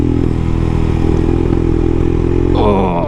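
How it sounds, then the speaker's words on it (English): A Royal Enfield Himalayan motorcycle fitted with a Lextek exhaust riding on gravel, a loud, close, steady low-rev exhaust drone with tyre crunch and clatter, the pitch shifting near the end. "the exhaust is just wicked for this off-road sort of stuff"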